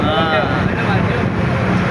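A boat crosses the sea to the Vivekananda Rock Memorial at Kanyakumari, its engine drone mixed with rushing wind and water, steady and close throughout.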